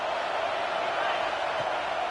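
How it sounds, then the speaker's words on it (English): Home crowd at a college football game roaring loudly in the stands, a dense continuous wall of cheering noise with no breaks. "how nice is it to have the home crowd going absolutely bananas?"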